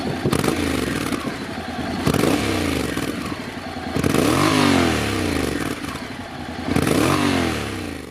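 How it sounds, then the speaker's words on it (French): A 2016 Honda NC 750X DCT with its Euro 4 exhaust accelerates through automatic gear changes, the loud engine note rising and dropping in repeated surges as it rides past close by. "il passe à Euro 4 et hérite d'un nouvel échappement plus sexy, mieux intégré et distillant une sonorité plus valorisante"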